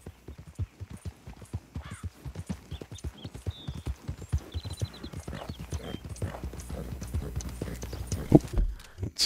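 Horse hooves clip-clop in Red Dead Redemption II, a brisk rhythmic patter of close strikes that builds a little louder toward the end.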